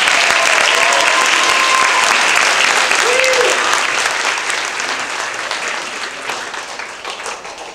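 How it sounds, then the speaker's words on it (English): Audience applause for a jazz band at a school concert, a dense sustained wash of clapping from a large crowd that stays loud and then slowly fades toward the end, with faint voices mixed in. "Jazz Band another round of applause"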